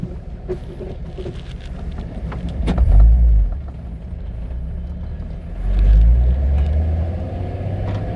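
Steady low engine rumble of a VR6-swapped VW Beetle on the move, with worn engine mounts, swelling louder twice as it accelerates, with light rattles and road noise throughout.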